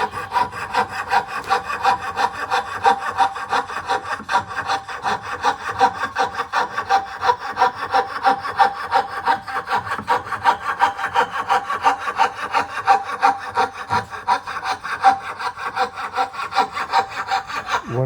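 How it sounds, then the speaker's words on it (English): A fret saw cuts hand-made wooden dovetails for a large jewelry box, its fine teeth rasping in a fast, steady back-and-forth rhythm, close and continuous without talk. "the problem with using the fret saw is to go, if you go past the line, there's no saving it"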